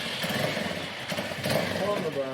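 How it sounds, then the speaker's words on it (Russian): A motorcycle engine rumbles in an underground catacomb tunnel, a steady mid-pitched drone with slight revving, heard close under people talking. "У нас вообще сегодня 2 мотоцикла."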